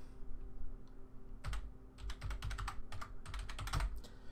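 Password being typed on a computer keyboard, a single tap, then a cluster of clicks, then rapid irregular bursts of keystrokes, close and clear over a low hum.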